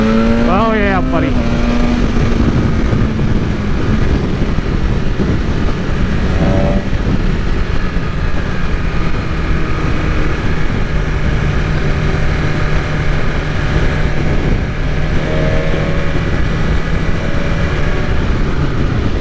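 A BMW S1000RR sport motorcycle on a test ride, its engine droning steadily and loudly the whole time with a rising whine early on, heard close from the rider's position amid heavy wind rush.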